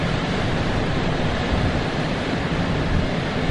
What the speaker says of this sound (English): Big waves, anyway. Crashing up on the pier.